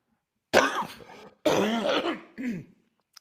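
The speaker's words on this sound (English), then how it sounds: "You're coughing." One person coughs or clears their throat three times in a row, each a short, rough, close burst with brief silences between.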